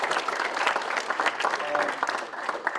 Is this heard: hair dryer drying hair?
no